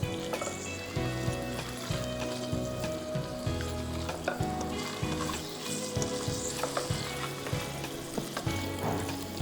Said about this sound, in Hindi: इतने इतने छोटे छोटे क्यूब्स करके इसमें डाल के आप इसको अच्छी तरह से फ्राई कर लीजिए।